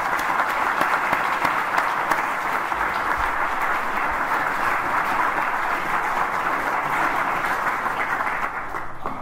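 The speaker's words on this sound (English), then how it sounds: "Let's give them a round of applause." An audience at a university research center's annual address claps steadily for several seconds, a dense, even wash of applause that fades slightly at the end.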